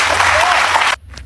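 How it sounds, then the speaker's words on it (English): A talk-show studio audience on The View breaks into loud, dense applause that fills the room for about a second, then cuts off abruptly, with a brief voice just after. "whenever they start clapping for him"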